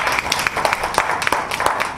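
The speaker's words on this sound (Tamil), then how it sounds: "பெரிய கைத்தட்டல்." Applause from an audience at an evening literary gathering honouring an award-winning journalist, a dense run of many hands clapping at steady volume for about two seconds with no voices.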